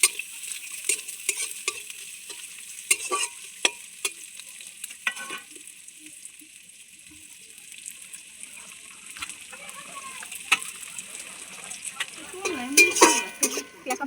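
Garlic paste and chopped onion frying in hot oil while being stirred, with soft sizzling, scraping and clinks of a utensil against the pan, fairly quiet and close, and a voice talking briefly.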